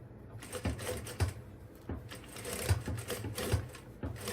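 A sewing machine stitching a zipper bag with thick and thin fabric layers under the presser foot, quick rhythmic mechanical clatter in short bursts with brief pauses between runs, close and moderately loud.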